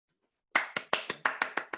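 About eight separate sharp hand claps after silence, spaced unevenly and fairly close, from a small group rather than a full crowd, following a live storytelling performance.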